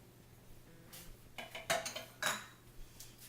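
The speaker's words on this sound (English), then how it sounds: "And I just blend that in by hand" Cheese, pepper and Greek oregano being stirred by hand into a spring onion pesto, giving a few soft clinks and scrapes of a utensil against a bowl in short bursts, fairly quiet and without talk.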